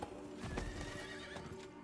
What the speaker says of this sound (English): I'll just sprint there with the horsey